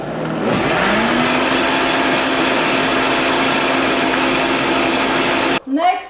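A kitchen blender whirs loud and steady for several seconds, blending cashews until smooth, then cuts off abruptly near the end.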